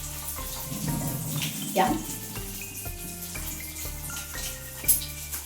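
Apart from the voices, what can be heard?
water tap running while washing hands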